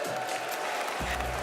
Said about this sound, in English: can we give a huge round of applause to Zeta Division?